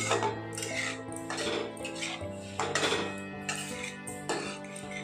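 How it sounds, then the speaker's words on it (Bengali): A metal spoon stirs and scrapes spice paste with yogurt in a pan for a vegetarian doi potol, making repeated clinks and scrapes against the metal over a low, steady tonal hum. "এবার দই দিয়ে মশলাটা আমি ভালো করে কষিয়ে নেবো।"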